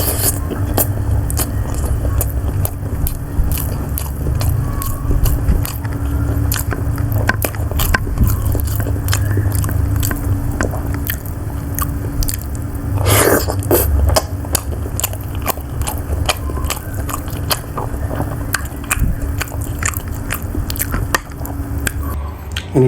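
Close, loud mouth sounds of someone biting and chewing potato from siomay, Indonesian fish dumplings, in a mukbang: continuous wet squishing and mastication with dense, irregular clicks running steadily throughout, no talking.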